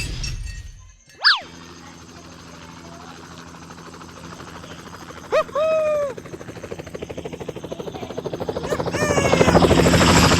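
Helicopter in a video game flying off, a steady rotor drone that swells louder toward the end, broken by a few cartoonish boing-like sweeps and a sharp crash near the start.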